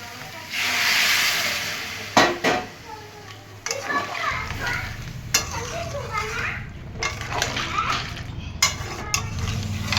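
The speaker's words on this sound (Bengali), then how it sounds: "এবারে গরম জল করে রেখেছি দিয়ে দেবো।" Hot water goes into a sizzling Bengali crab and potato curry, bringing a sharp hiss and bubbling steam that settles into steady simmering, with people and children talking over it.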